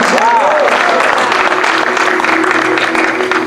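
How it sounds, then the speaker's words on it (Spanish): A church congregation claps hands together in a steady, continuous patter, with crowd noise and a voice briefly heard beneath it. "Vamos, vamos, dale palmas al Señor."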